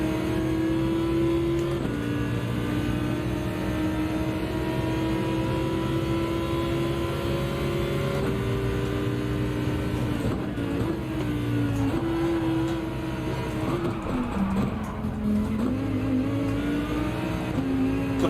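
A Porsche race car in Gran Turismo 7 on the Suzuka circuit drones steadily under load, its engine pitch rising and dipping through gear changes and corners, with other cars' engines blending in for a continuous, loud racing roar.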